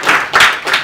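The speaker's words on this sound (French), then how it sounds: "On peut l'applaudir dans les premiers joueurs" Meetup audience at an HTML5 tinkering event applauds a new player joining, a short loud burst of clapping in a few swelling waves.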